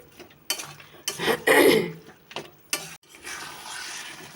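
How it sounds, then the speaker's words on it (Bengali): Jujube (kul) pickle cooks in melted jaggery in a pan, with several scraping stir strokes and clatters against the pot, then a softer steady bubbling hiss toward the end. "আস্তে আস্তে এটা গুড়ের মধ্যে সিদ্ধ হবে।"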